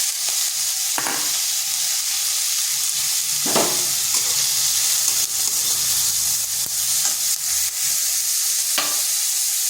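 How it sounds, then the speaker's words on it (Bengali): Onion and chopped carrot fry in a pan with a little oil, a steady close sizzle broken by occasional scrapes of stirring. "পেঁয়াজটা হালকা একটু ভেজে নিচ্ছি। দিয়ে দিচ্ছি গাজর কুচি।"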